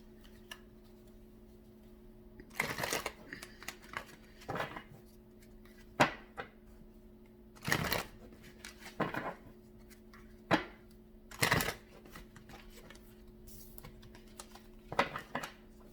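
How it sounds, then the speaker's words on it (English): Tarot cards being shuffled by hand: several brief, soft riffling and slapping bursts spaced irregularly over a quiet room background, close and fairly faint, with no talking. "Shuffle these ones up and then we'll be good to go."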